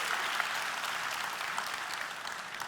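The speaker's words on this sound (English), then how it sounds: "Can we do one more round of applause for Rex?" A short, even patter of audience applause for Rex, steady and fairly soft, with no voices over it.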